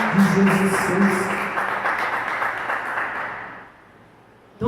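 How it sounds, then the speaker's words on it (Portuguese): A church congregation applauds in a steady, broad wash of clapping that fades out near the end, with voices underneath. "Vamos aplaudir e glorificar o Senhor."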